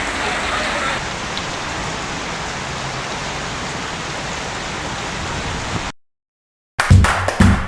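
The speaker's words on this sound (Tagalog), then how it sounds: "Nasa ulan." Steady rain falls around a passenger boat as people board, a dense even hiss for about six seconds, then a brief silence and a few sharp knocks and thumps close by.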